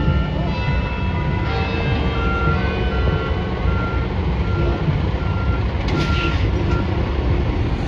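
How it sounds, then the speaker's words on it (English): A truck reverses in a children's game, its backup alarm giving a steady run of repeated beeps over a loud engine rumble, with no talking. "Truck."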